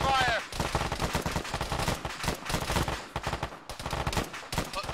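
Rapid gunfire from a military tactical shooter game crackles in dense, overlapping bursts and single shots, loud and near, with no clear pause across the stretch.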